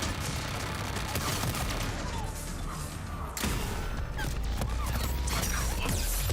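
Loud, dense gunfire and mechanical crashes from a turret firing in Mass Effect 3, continuous heavy battle noise with sharp impacts throughout.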